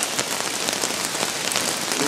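Steady rain falls and patters on surfaces throughout an outdoor religious ceremony on a hill, a dense, even hiss of drops with no speech heard.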